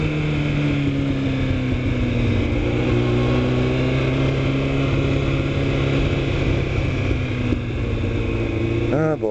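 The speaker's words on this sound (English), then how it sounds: "That's freaking Honolulu traffic for you." Honolulu street traffic heard while riding a motorcycle: a loud, continuous engine drone and road rumble with surrounding vehicles, ending in a brief rising rev.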